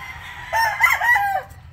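A rooster at a game farm gives one full crow, loud and close, over a low steady background hum, with hens clucking faintly nearby.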